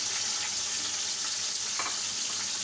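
Ginger-garlic paste frying in hot oil for a moong dal and spinach dish: a steady, close hiss of sizzling with no talk.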